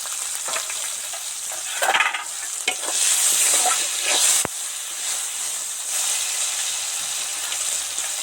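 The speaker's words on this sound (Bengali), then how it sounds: "ওগুলো তো সফট সফট করে ভাজা হয়ে গেছে দারুণ গন্ধ বেরিয়েছে লঙ্কা পাঁচ ফোড়ন আর টমেটোর" Tomatoes with green chili and panch phoron (five-spice) frying in oil in a pan, a steady close sizzle broken by several scraping stirs of a spatula, with no talking.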